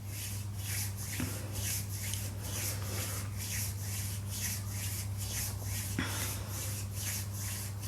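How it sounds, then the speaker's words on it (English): Hands rub back and forth around a wrist in a warming self-massage, a steady rhythmic swishing of skin on skin repeating about twice a second, close and soft over a low constant hum. "So you're just going to rub around your wrist."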